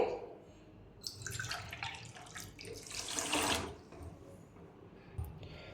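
Water poured into a pot holding one glass each of rice and moong dal, three glasses of water per glass of grain, comes as splashing bursts near the middle of the clip against a quiet background.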